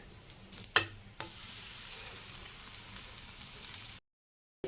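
An Oreo pancake sizzles softly in a pan as it is flipped, with a couple of sharp clatters from the turn, then a quiet steady fry before the sound cuts to silence.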